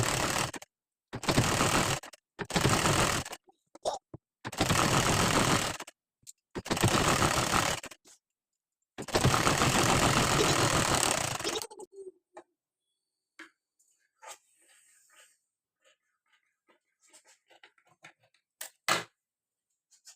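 A sewing machine runs a straight seam along the bottom of a blouse in several short, loud bursts with brief pauses, then stops, leaving only faint scattered handling clicks.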